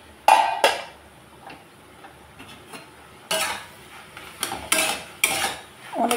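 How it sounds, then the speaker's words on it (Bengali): A cooking pot lid is lifted off while mung dal sukta simmers, giving a few sharp metallic clinks and clatters between quiet pauses. "ঢাকনা খুলে দিলাম।"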